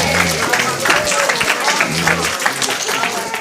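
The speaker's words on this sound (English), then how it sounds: "Let's give him another round of applause" An audience at a summit gathering applauds a guest, a sustained wash of clapping with scattered voices and a speaker talking over it.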